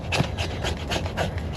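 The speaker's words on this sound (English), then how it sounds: "Get some shavings of some fat wood up in there." A blade shaves fatwood for a fire outdoors in freezing weather, giving about six quick, close, rasping strokes in a steady rhythm.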